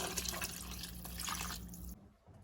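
Two cups of water pour into a pot of broth with a ham bone, a steady splashing rush lasting about two seconds before stopping abruptly, with no talking.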